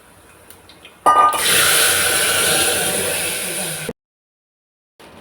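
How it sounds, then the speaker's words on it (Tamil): Water pours into a cooking pot for tamarind rice, a loud steady gushing stream for about three seconds that cuts off abruptly, preceded by a few light clinks. "ஒரு டம்ளர் அரிசிக்கு 1 டம்ளர் புளி தண்ணி, 1 டம்ளர் தண்ணி விட வேண்டும்."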